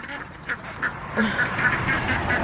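Free-range ducks quack in short nasal calls, several in a loose irregular series, fairly close over faint outdoor background noise.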